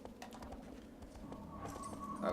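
Horse hooves clip-clopping in the video game Shadow of the Colossus, a quiet steady patter of footfalls with faint ambient game sound and a brief brighter tone near the end.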